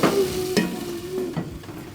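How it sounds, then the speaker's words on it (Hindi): Spiced potato noodles being stirred in a pan over low heat: a few scraping strokes and soft knocks over a low background sizzle, close by, with no voices. "इन सबको अच्छी तरह मिक्स करें"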